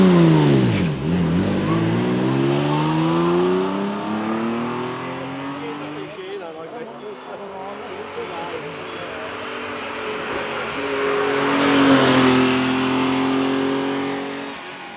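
A BMW M88 inline six-cylinder engine revs hard through rising and falling sweeps, loud and close, with a smooth howling pitch that climbs again near the end.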